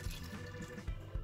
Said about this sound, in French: Pour reverser de l'eau, je vais tout simplement utiliser une autre bouteille où j'ai mis de l'eau du robinet.